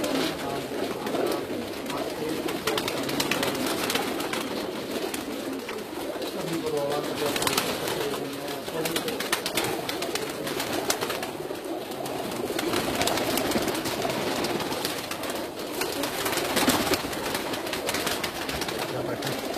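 A flock of pigeons cooing together, a dense, continuous chorus of soft throaty coos and rustling wings close by, with people talking intermittently over it.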